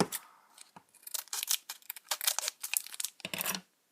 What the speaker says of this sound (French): J'ai pris une paire de ciseaux pour ouvrir.